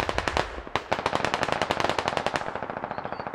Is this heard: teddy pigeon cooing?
no